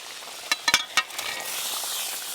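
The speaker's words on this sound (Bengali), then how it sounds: "এবার দেব ভেজে রাখা ডিম।" Fried eggs dropped into an egg curry in a pan with water: a few sharp clinks and splashes come first, then the sizzle and simmer of the frying curry settles into a steady hiss.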